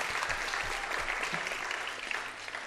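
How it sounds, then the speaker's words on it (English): An audience applauds the orchestra at a Bharatanatyam arangetram, a dense, steady wash of clapping from a large crowd heard alone without speech. "a big round of applause also awaits the orchestra team for their amazing"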